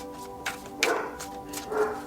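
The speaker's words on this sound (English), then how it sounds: "My dog's barking." A household dog barks a few times in another room, with short, moderately loud bursts over a steady low indoor hum and no talking.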